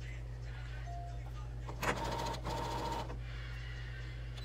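A sewing machine stitches a dish towel cloth napkin in a short whirring burst of about a second and a second burst after a brief pause, over a steady low hum in a quiet room.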